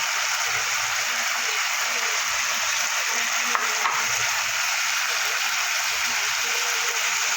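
Spices stir-fried with a splash of water for a Bengali cucumber curry, with turmeric, roasted cumin powder and Kashmiri chilli coating fried potatoes, give a steady close sizzle with soft scraping stirs and brief clinks throughout.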